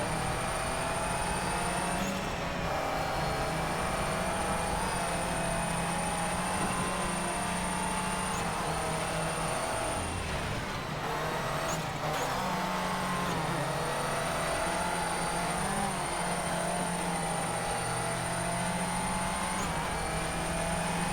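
Rallycross cars, a 2006 Subaru Impreza and a Lancer EVO IX, racing at Knockhill in the DIRT game, engines droning steadily and loudly throughout with rising and falling pitch as they shift gears.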